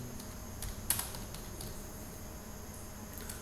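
Typing on a computer keyboard while entering an SQL create-table command, soft scattered key taps over a faint steady hum, quiet and close with no speech.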